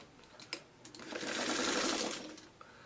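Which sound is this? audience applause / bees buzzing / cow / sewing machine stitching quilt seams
sewing machine stitching quilt seams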